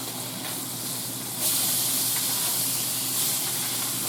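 Fish pan-roasting in a hot skillet gives a steady, close hiss of searing, with a brief louder surge partway through.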